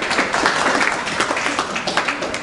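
Audience applause at a charisma and conversation skills seminar, steady dense clapping from a crowd that holds without a break for a couple of seconds.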